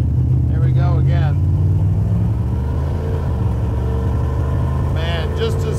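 A 1957 Chevrolet 210 Bel Air engine rumbles loud and deep from inside the car as it pulls under throttle, a steady low drone with brief rising revs, while someone talks over it.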